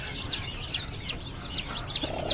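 Native village chicks on a livestock farm chirp in quick, repeated high peeps, close by, with soft clucking underneath.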